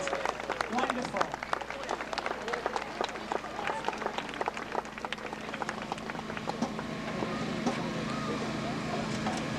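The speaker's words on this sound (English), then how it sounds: "Let's have another round of applause." An audience applauds a sixth grade band at a graduation ceremony, a steady crackle of many hands clapping throughout, moderately distant, with a voice speaking over it.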